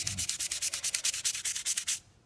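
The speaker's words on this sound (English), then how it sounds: "I'm going to keep on scrubbing" A US Navy issue Snap-on FV71 ratchet from the 1960s scrubbed during restoration, rapid, close brushing strokes in an even back-and-forth rhythm, about fifteen scrapes before stopping, no talking.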